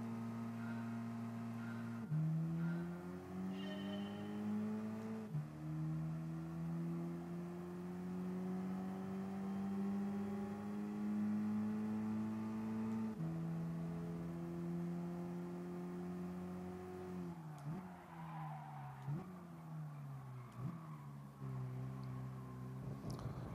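Race cars in the Gran Turismo Sport video game during a two-lap race, engine notes whining upward through gears with sharp shift drops, steady and fairly quiet, with no voices.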